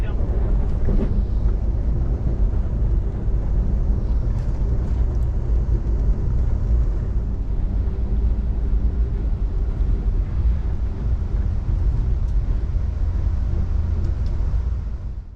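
Inside the Amtrak Coast Starlight train after it leaves Emeryville, a steady loud low rumble of the moving train and wind roar fills the carriage continuously, without any distinct breaks.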